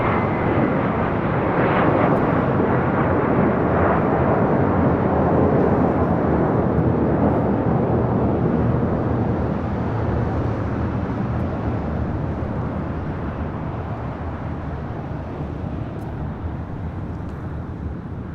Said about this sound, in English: That was American Airlines Flight